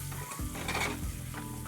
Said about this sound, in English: They're frying and they're soaking up all of that beautiful chorizo fat.